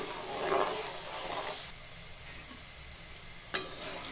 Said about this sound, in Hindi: फ्लेम को हमें लो ही रखना है और मसालों को अच्छे से भूनना है